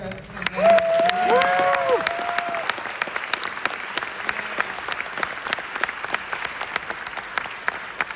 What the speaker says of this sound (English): can we have a round of applause for